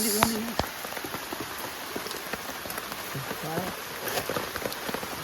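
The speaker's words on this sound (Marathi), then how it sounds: "पाऊस" Steady unseasonal first rain falling on a surface, a dense patter of drops throughout, with brief faint voices and small knocks mixed in.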